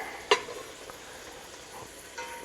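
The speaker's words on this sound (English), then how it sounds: "We're going to saute that down." Serrano peppers and chopped vegetables sauté in a pan for crawfish étouffée, a soft, steady sizzle with an occasional faint clink of a utensil stirring the pan.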